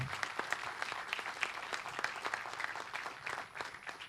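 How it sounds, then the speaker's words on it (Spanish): Audience applause for a speaker at the EINAVAL 2022 naval industry conference in Argentina, moderately distant and fairly quiet, with individual claps standing out in a steady stream. "También el aplauso para Óscar y bienvenido a la Argentina"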